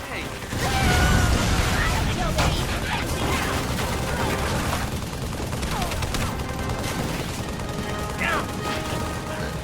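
Rapid bursts of gunfire and weapon clatter from the Halo 3 shooter on Xbox 360, sustained and loud throughout, with a mix of pistol and automatic fire and clanking impacts.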